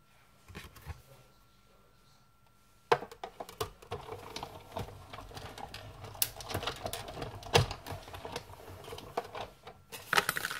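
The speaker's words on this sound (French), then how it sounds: "je vais en couper un autre morceau" Paper being cut for a small handmade flipbook, a run of close, scratchy snips and rustles after a quiet start.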